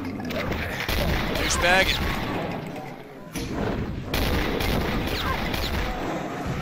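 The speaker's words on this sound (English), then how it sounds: "Just gotta shoot it open." Gunshots in Dew Randomizer are fired at a crate to blast it open. Several sharp cracks and thuds ring out over a noisy game background as a player talks over the shooting.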